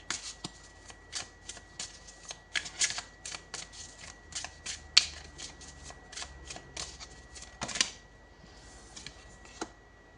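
Tarot cards being shuffled before a draw, a quick series of crisp riffling bursts and soft flicks, close and fairly quiet with short pauses between.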